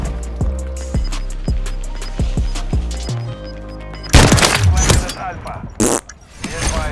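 Sniper rifle fire in Call of Duty Modern Warfare 3, sharp loud gunshot bursts around the midpoint followed by a second crack, over game music and effects.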